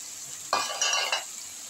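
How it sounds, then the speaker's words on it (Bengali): Fried potatoes going into an egg curry in a pan, a short burst of close sizzling with a few spoon scrapes and clinks against the pan, then quiet. "এই আলুগুলোকে আমি দিয়ে দিলাম"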